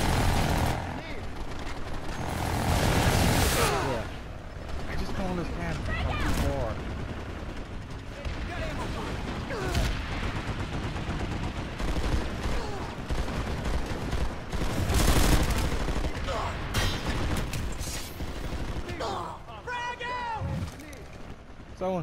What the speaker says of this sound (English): You see gunfire coming out that way.